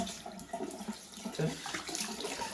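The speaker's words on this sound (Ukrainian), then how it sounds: "Відкрив воду, закрив." Water gushes from a household tap that is opened and then shut off, a close, steady splashing rush into a sink lasting a couple of seconds with no voices over it.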